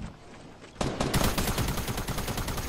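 Rapid automatic gunfire from a Fortnite match erupts after a short quieter stretch and continues as a loud, dense burst of shots with no talking over it.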